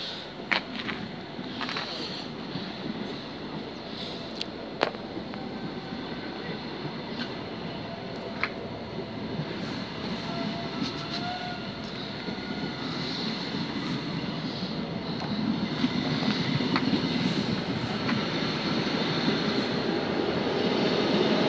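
Train 90011 pulls away from Stowmarket station on a service to Norwich. A broad, steady engine and rail rumble builds slowly and stays loud, with faint clicks and knocks over the top.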